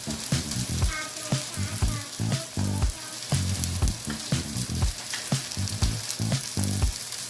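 Food fries and sizzles in a pan as salt is stirred in, with steady crackling broken by repeated scraping and stirring strokes, close and moderately loud, with no talking.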